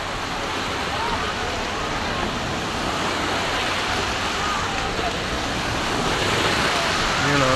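Steady rushing water and surf-like wash fill the scene continuously, a broad constant roar without pauses.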